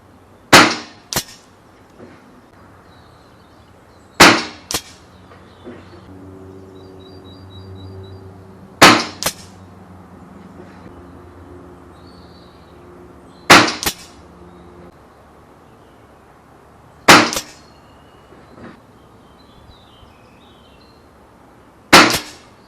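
Weihrauch HW97KT air rifle fired at 25 m, six sharp single shots spaced roughly every four seconds, each a crisp crack with a short tail, over a quiet background.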